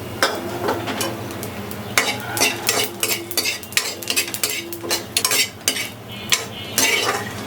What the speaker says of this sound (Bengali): এই তেলে একটু জিরে আর একটু ধনে ভেজে নেব